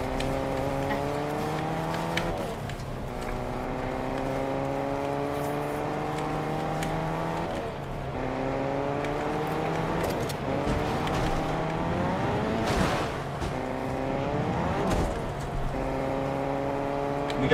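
A car driving in the video game Fortnite, its engine droning steadily and shifting pitch as it accelerates and eases off, with occasional sharp knocks and bumps, moderately loud and continuous.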